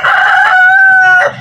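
A rooster crows close and loud, one long drawn-out cock-a-doodle-doo that ends with a brief trailing note.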